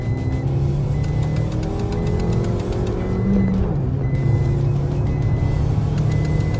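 A Hyundai Creta and a Maruti Brezza accelerate side by side in a drag race, giving a loud, steady engine roar with rising tones, plus a faint repeating beep in the background.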